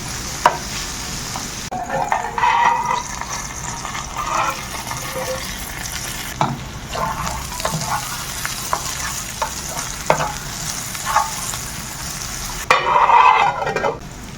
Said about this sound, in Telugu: ఇప్పుడైతే ఆనియన్స్ అయితే వేసుకుందాం. దాంతోపాటు పండు మిర్చిని కూడా ఇందులోకి యాడ్ చేసుకొని మంచిగా కలుపుకుందాం.